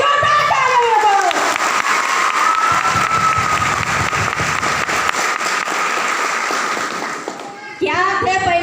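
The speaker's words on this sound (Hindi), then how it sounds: "एक बार अपने लिए जोरदार तालियां दो।" Loud, sustained applause and cheering fill a large hall at a Safeshop direct-selling meeting in India, dense clapping with shouts and children's voices, tapering off before a voice resumes near the end.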